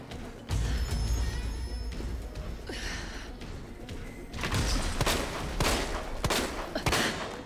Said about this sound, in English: I'm gonna save ammo and just use pistol